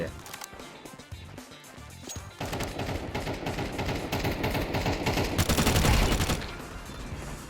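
Sustained rapid gunfire in a first-person shooter video game, dense continuous bursts that build in loudness, with a person talking over the shooting.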